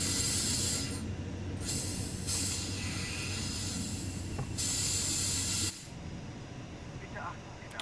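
A DB BR 628 diesel multiple unit in Train Sim World runs steadily, its engine drone and rail hiss loud and continuous, broken by brief airy hiss bursts, and easing to a lower, quieter rumble near the end.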